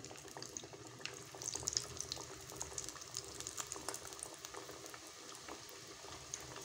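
Potato samosas sizzle in hot oil in a kadhai, a faint, continuous crackling and bubbling fry noise with dense small pops, heard alone without talk.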